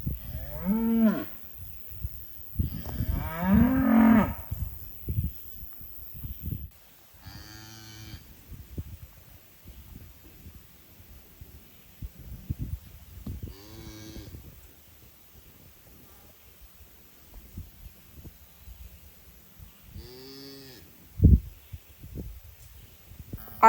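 A cow moos repeatedly while calving, with several loud, drawn-out bellows spaced apart and quiet rustling in between.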